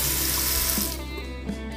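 Water gushes steadily from a tap, a full rushing stream that eases slightly partway through, with faint knocks in the background.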